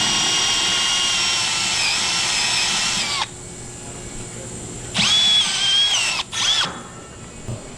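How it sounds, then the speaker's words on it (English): A power drill drilling out a rivet on a Can-Am Maverick X3 four-door whines steadily for about three seconds, falls quiet, then bursts back in two shorter runs, close and loud with no talking. "So what we like to do is we'll drill this one out"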